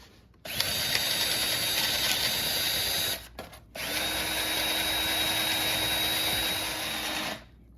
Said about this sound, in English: make sure the drill's going the right way.